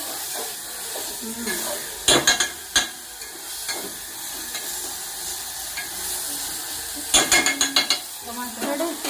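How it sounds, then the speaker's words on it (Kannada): Food frying in a pan with a steady sizzle and hiss, broken by a few sharp scraping clatters as a spoon stirs against the pan; jaggery has just been added to the dish. "ಅದೆಲ್ಲ ಒಂದು ಐದು ನಿಮಿಷ ಫ್ರೈ ಆಗಬೇಕು ಚೆನ್ನಾಗಿ"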